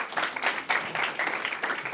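An audience at an AI gathering at Google in New York City gives a round of applause: dense, continuous clapping heard from a moderate distance, fairly soft, with little talk over it.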